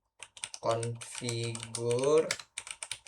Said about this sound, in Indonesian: saya ingin mengetik